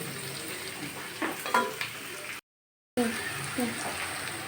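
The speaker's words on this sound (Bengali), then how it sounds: "আমি পেঁয়াজটা এই যে ভেজে নিয়েছি ফিফটি পারসেন্ট ভেজে নিয়েছি" Onions fry in plenty of oil for a fish curry, a close, steady sizzle with stirring scrapes, broken by a short gap of silence before the sizzling resumes.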